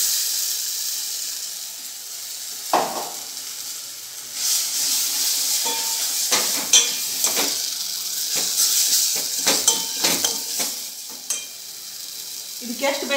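Ground masala paste hitting hot oil for a home-style sambar, a sharp hissing sizzle that swells and fades, broken by scattered clicks and scrapes of stirring, close and fairly loud with no talking.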